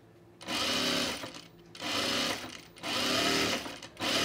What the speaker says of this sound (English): I'm like already done sewing it now